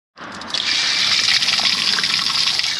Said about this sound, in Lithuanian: stabtelėjom vienoje vietoje prisileisti gėlo vandens, gero iš kalnų, švaraus